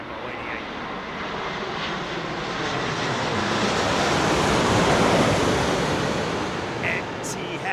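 An Etihad airliner's jet engines roar at Heathrow Airport, a broad loud rushing noise that swells steadily toward the middle and then slowly eases as the plane passes near.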